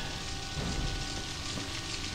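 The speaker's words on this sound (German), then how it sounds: "wir haben gerade die Sprinkleranlage hier eingeschaltet" Water hissing from a sprinkler system in Outlast, a dense rain-like spray pattering on surfaces without pause, close and even, with a low rumble beneath and nobody speaking.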